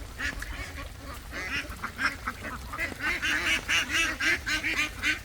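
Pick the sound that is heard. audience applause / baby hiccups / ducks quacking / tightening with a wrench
ducks quacking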